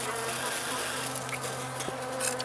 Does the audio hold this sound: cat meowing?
no